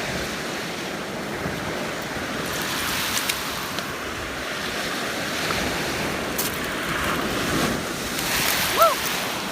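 Ocean waves break and wash up a beach at high tide around sunset, a continuous surf roar with light wind buffeting the microphone and a slightly bigger surge near the end.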